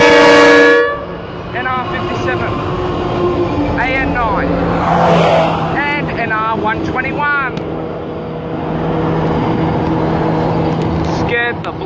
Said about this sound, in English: that horn. But it's a freight train, so who cares?